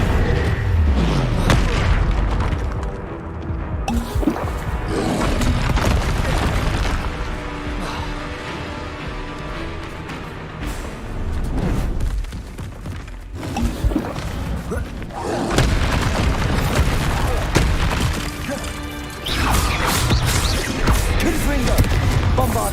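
Bombarda blasting spells bursting during a Hogwarts Legacy fight, heavy booms and crashing impacts repeating through a long stretch of chaotic combat, loud and dense, with voices breaking in now and then.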